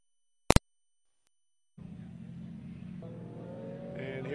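Drift cars run on a track at a Drift Colorado round, one of them V8-powered, their engines rising from a distant drone to a steadily building roar after a sharp click and a stretch of silence.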